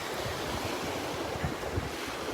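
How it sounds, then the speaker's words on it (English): Gulf of Mexico waves breaking on a beach in North Naples, Florida, on an evening beach walk, heard as a steady, loud wash of surf mixed with wind buffeting the microphone, with no voices. "Look at those waves."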